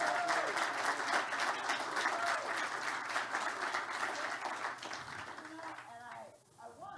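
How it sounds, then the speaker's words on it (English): An audience at a Money 20/20 conference session applauds the day and its speakers with a full, sustained round of clapping that thins out near the end as voices come in. "Let's give one more round of applause for today and the speakers"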